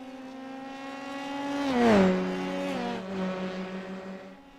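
Race cars drive a circuit in a racing video game. One engine tone whines up, sweeps through a rising and falling pitch as it passes, then drones on steadily at moderate loudness.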